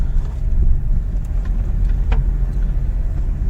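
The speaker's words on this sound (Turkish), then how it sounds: "arabaya bastırdığınız zaman devrini aldığı zaman araba gayet yeterli gidiyor" Renault Clio engine driving uphill on a winding road, a steady low hum under road and wind noise heard from inside the car, with no talk.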